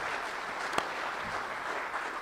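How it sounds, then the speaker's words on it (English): An audience at a regional economic summit breaks into applause, a steady wash of clapping from many hands that holds at an even level for a couple of seconds with no talk. "I think we need to give them a round of applause"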